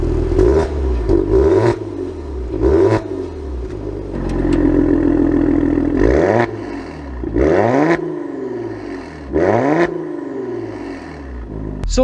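A 2022 Maserati Quattroporte Modena Q4 accelerates hard through repeated gear changes, its engine rising and dropping in loud surging sweeps with a steady cruising stretch midway, recorded close with no speech.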